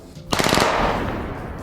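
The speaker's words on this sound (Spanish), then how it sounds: "Algo que hay que replicar en un videojuego es el retorno de un disparo" A rapid burst of gunfire from the Halo video game cracks loudly and close, a quick string of shots followed by a long, fading echo tail that rings out for over a second.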